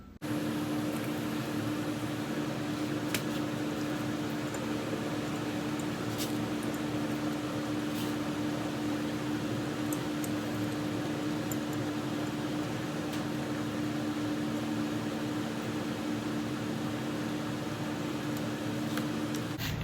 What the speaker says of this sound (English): I'm going to go turn on the fan